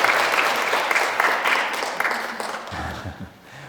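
A church congregation claps together in welcome for two people during a Korean service, a dense burst of applause that gradually thins out, with a few low voices murmuring near the end.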